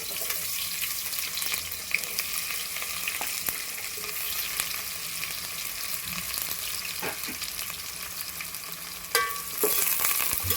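Onions sizzle and fry in a pan for Nellore-style chicken biryani, a steady, close hiss running throughout with a few soft clinks and a slight surge near the end.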